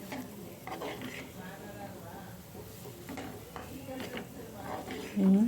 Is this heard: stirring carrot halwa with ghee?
yes